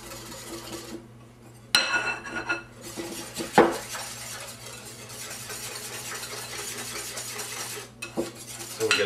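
Three eggs are beaten together for a Yorkshire pudding batter, metal clinking and scraping against a bowl in quick irregular bursts after a brief quiet start, with no voices.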